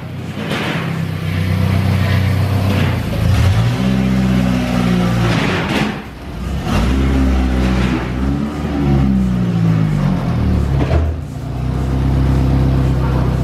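A Ford Turbo Coupe engine revs hard on a Mustang chassis dyno, a loud, continuous drone with repeated rising and falling sweeps of throttle and brief dips between pulls.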